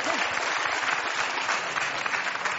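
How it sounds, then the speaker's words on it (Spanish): An audience applauds warmly for María at a televised gathering, a dense, steady wash of many clapping hands that holds evenly for a few seconds with no break and no voices rising above it. "A María un fuerte aplauso, ¿no?"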